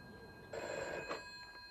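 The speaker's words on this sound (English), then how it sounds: "Mrs. Philomena Hall's phone rang one breakfast time." A telephone rings indoors at breakfast time, with one clear bell ring followed by a shorter, fainter second burst over a quiet background.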